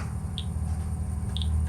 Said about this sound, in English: We've got a little noise it's making, like a Geiger counter